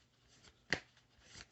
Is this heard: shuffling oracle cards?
yes